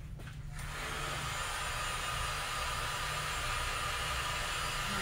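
A heat blower runs on a synthetic shoe to warm it for stretching, giving a steady, even whoosh that starts after a brief moment and holds unbroken, close and moderately loud.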